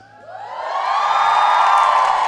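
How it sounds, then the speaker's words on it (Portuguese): A crowd of women scream and cheer together in a swelling, high-pitched roar that builds over a couple of seconds and holds loud and close, welcoming two children at a street fair. "Porque esses gritos, esses abraços e esses aplausos é para receber vocês com todo carinho"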